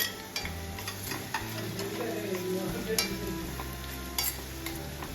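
A spoonful of cumin seeds sizzles and crackles in hot oil in a pan, steady frying hiss with sharp pops and a few utensil clinks as the seeds are stirred, close and fairly quiet.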